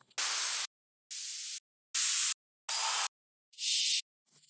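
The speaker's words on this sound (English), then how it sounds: "Down lifters." Downlifter effects in a dance music production: five separate bursts of airy white-noise whoosh, each about half a second long with brief silences between, the last one softer and thinner at the top.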